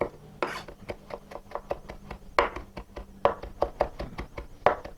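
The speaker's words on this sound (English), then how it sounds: "So for the tarragon, chop your tarragon very finely to extract the maximum of flavors." A knife chops washed French tarragon leaves on a cutting board, quick rhythmic knocks in uneven bursts, close and crisp, with no one talking.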